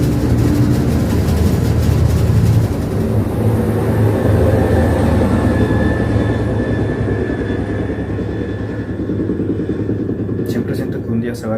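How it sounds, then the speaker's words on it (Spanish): A helicopter passes over a house as a steady, loud low engine drone and rotor rumble that dominates throughout, slowly easing off toward the end, with a voice speaking over it. "Está pasando un helicóptero encima de mi casa"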